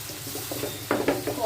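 Tomato puree going into a sizzling pan of dried-shrimp curry with garelu: a short burst of wet sizzling and bubbling, close and fairly loud, with stirring clatter.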